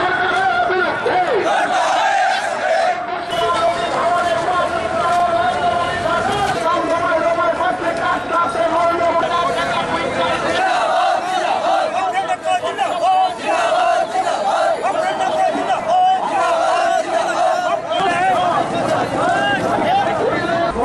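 A crowd of protesting farmers chants loudly and continuously at a road blockade, with rhythmic group shouting and some overlapping voices and babble throughout.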